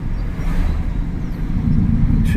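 A truck cruises along a road near Waterford, Virginia in non-sport mode, giving a steady, close engine and road rumble that holds at an even level throughout with no sharp revving.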